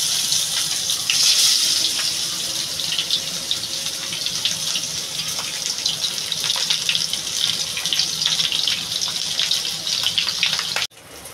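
Fish dropped into hot oil for frying, giving a steady, loud hissing sizzle that holds for about eleven seconds and then cuts off abruptly near the end.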